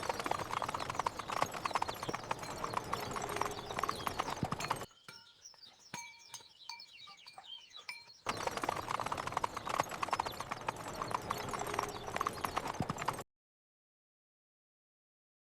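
A ridden horse trails behind carts with steady clip-clopping hooves in two stretches, separated by a quiet gap with scattered bird chirps, then silence.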